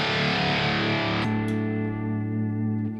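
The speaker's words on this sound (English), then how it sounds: "my reverb, my delays are hooked up to an expression pedal." A distorted electric guitar rings out loud, then a held chord sustains and decays with a washy, echoing tail from reverb and delay controlled by an expression pedal.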